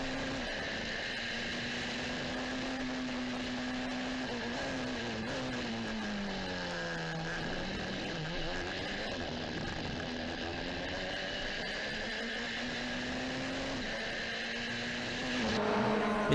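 Onboard an endurance race car, Idexport Racing's number 17 at Estoril, the engine holds a loud, continuous roar that climbs and falls in pitch through gear changes and corners, with a brief surge near the end.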